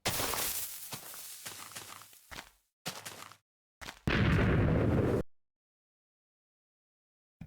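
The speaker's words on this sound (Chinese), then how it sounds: "这个烟花放的还是挺开心的" TNT fireworks set off in a video game world: several rapid, loud explosive bursts separated by short silences, then one long roaring blast that cuts off abruptly into silence.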